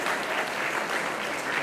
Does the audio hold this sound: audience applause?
yes